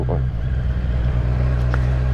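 Vehicle with a cut-down, straight-through exhaust pipe gives a deep, steady low rumble up close, a throaty engine drone that holds evenly for a couple of seconds.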